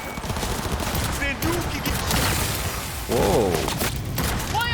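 Rapid bursts of video-game gunfire from Cyberpunk 2077 Phantom Liberty crackle in loud fusillades with booms and mechanical clatter, while a player gives a brief exclamation over the shooting.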